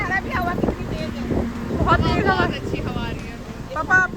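Strong wind buffets the microphone as a continuous low rumble on an outdoor outing in Varanasi, with people talking over it throughout.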